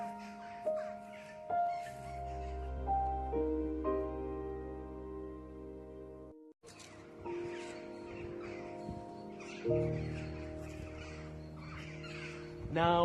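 Crows cawing in a graveyard, scattered harsh calls over long ringing church bells that sound in slow tolling runs with a short break midway, fairly loud and alone without talk.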